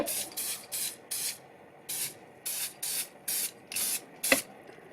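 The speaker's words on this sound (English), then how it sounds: "After you spray it with something like this, triple thick" Repeated short bursts of an aerosol can spraying Triple Thick acrylic sealant, about ten quick sprays in a steady rhythm with brief pauses between, close and fairly loud.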